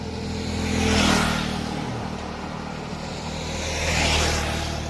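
Vehicles speed past on a highway in two separate whooshes, each swelling as it nears and fading away, over a steady background rumble.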